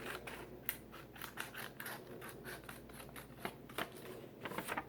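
Scissors cutting paper in repeated short snips, close and fairly quiet, a series of crisp strokes along a straight line with brief pauses between them.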